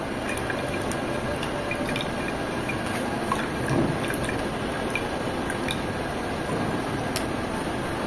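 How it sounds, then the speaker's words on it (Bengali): Beet juice is strained and pressed through a sieve, giving a steady patter of close drips and wet squishing, with a slightly louder squelch midway. "এটাকে অবশ্যই ছেঁকে নিতে হবে। চেপে চেপে এগুলো ফেলে দিতে হবে"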